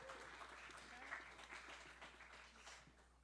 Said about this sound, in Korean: 우리 큰 박수로 축복해 주시기 바랍니다.